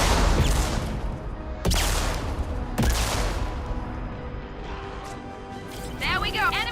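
Gunfire from the Mass Effect 2 video game: a few sharp loud bursts over a dense, constant battle soundscape, with a voice speaking throughout.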